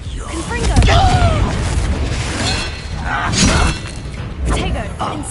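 Booming blasts of the Confringo explosive spell in Hogwarts Legacy, several thuds and shattering bursts mixed with a voice speaking throughout.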